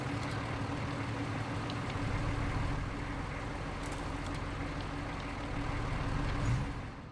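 A heavy truck engine idles steadily in the video game RoadCraft, a constant low mechanical drone that holds at a fairly even level throughout.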